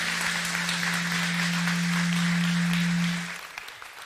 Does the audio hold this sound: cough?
no